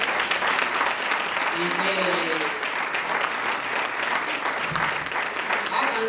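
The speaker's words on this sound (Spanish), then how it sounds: "Un aplauso fuerte." Audience applause at a jota Christmas carol festival in Caparroso, a steady broad wash of clapping lasting the whole stretch, with a voice speaking briefly over it near the end.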